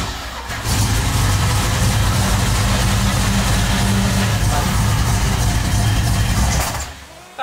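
A Ford Maverick engine starts and runs, revving loudly and steadily close by for several seconds before cutting off, with a voice briefly audible.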